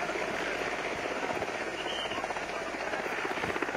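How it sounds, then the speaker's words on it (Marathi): Steady, loud rotor and engine roar of a nearby helicopter taking off in Nashik, continuous throughout with a broad rushing wash. "त्यांचं जे हेलिकॉप्टर आहे ते आता मुंबईसाठी पुढच्या नियोजित कार्यक्रमासाठी रवाना होत आहे"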